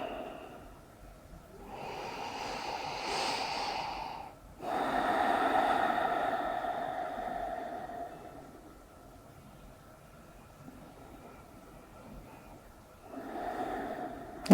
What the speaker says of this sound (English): just enjoy your breath here.